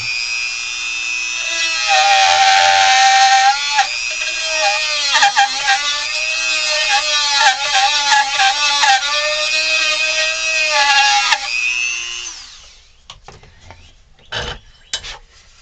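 A Dremel rotary tool drills into carved wood to open a screw inset, with a loud, steady high whine for about ten seconds that wavers as it bites, then spins down into a few faint knocks.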